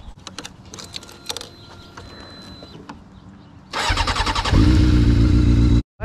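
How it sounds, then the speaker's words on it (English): A 2001 Honda CBR 600 F4i motorcycle starts up after some faint clicks and handling noises, then revs loudly and close with a brief cut near the end. "We're gonna go take this beautiful 2001 Honda CBR 600 F4i on a nice little cruise."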